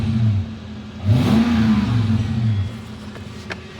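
A Toyota 4Runner engine revs through a custom stainless catback exhaust, a loud, close rumble that climbs in a single rising sweep, holds, and then settles back toward idle.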